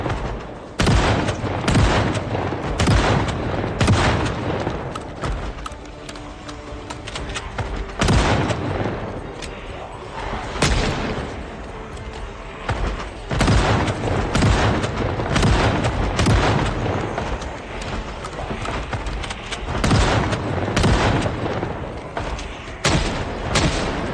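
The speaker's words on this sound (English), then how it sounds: "Back to shotgun." Repeated shotgun blasts in Project Zomboid fire in quick irregular clusters throughout, loud and close with booming reports and short pauses between volleys.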